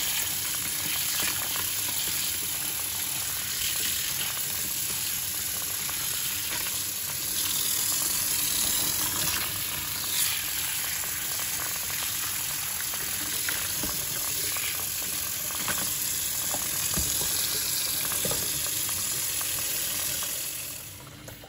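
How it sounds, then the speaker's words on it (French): Raw peanuts are swished and rubbed by hand in water to wash off dust before boiling, a steady close wet swirling and sloshing that runs without a break and fades out at the end. "prenez votre main, bien mélangez, tournez, enlevez de poussière, vraiment très bien laver les arachides avant de les bouillir"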